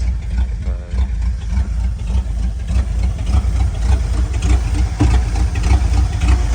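A vehicle's engine running on a snowy cold morning after a cold start. It gives a loud, close, steady idle with a low rumbling throb and slight knocking texture, with no voices.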